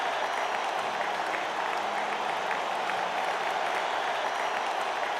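Applause in the video game Radiant Tale, a steady even wash of clapping from a crowd that holds at a constant moderate level throughout with no break and no voices on top.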